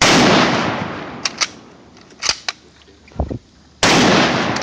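Blank round fired from an M1903 Springfield rifle outdoors: one very loud sharp blast at the start that decays into echo, then scattered small knocks, and a second loud burst near the end.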